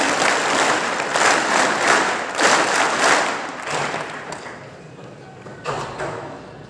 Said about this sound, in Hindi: और इसके लिए भैयाओं से सैनिक ताली